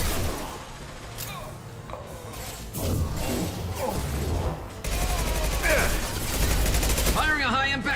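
Rapid gunfire from Mass Effect combat rattles in dense, overlapping bursts and crashes, loud and close, over a continuous battle din.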